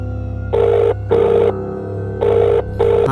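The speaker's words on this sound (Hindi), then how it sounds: "सोन अपना मोबाइल निकालता है और बुल्ली के पास फोन लगा देता है" A mobile phone rings during an outgoing call, four evenly spaced tonal bursts each lasting about half a second, clear and close with short silences between.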